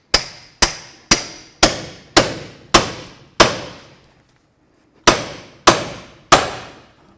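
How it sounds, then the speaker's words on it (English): Sharp metallic hammer blows drive a pickle fork between the front lower ball joint and steering knuckle of a 2003-08 Toyota Matrix. About seven steady strikes ring out, then a brief pause and three more. "we're going to separate the ball joint from the knuckle. I like to use a pickle fork."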